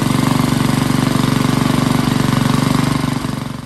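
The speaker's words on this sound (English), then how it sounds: "We'll use an idling lawnmower." A lawnmower engine idles close by in a loud, rapid, even chug that holds steady before slightly dropping and softening toward the end; no one talks over it.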